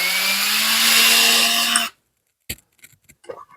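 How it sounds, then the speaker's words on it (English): Power drill boring into wood at an angle while building a robin nesting box, a loud steady whine lasting about two seconds that stops abruptly, followed by faint scattered handling knocks. "So we're going to drill it on an angle so it goes in."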